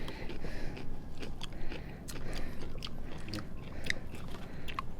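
Crunchy chewing and biting on a water-giving plant while climbing a mountain in the Philippines, with close, irregular wet crunches and scrapes repeating steadily throughout.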